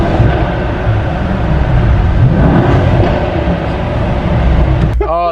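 A 2018 Mercedes-AMG E63S engine drones in a tunnel in Sport Plus and Race mode, revs held under 4,000 RPM, a loud steady rumble with no clear climbs, and a brief tonal sound near the end.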